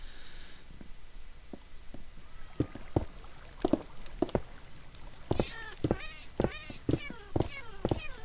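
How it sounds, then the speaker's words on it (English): In the Minecraft video game, cats trapped in lava meow over and over, starting sparse and growing denser. The short, tinny cries layer into a crowded chorus over a faint background hiss. "Oh, the sound of cats in the lava."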